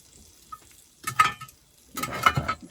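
Onions sizzle in a hot pan on a stove in an ice fishing shack, with two bursts of stirring and scraping over a faint steady fry, close and fairly quiet.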